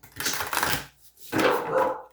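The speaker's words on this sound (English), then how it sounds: "Whoa, sorry about my dog." A dog barks indoors in two loud, close bursts separated by a short pause, with no talk over them.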